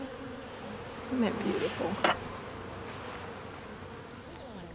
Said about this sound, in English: Then they get to handle the bees and they get to be with them.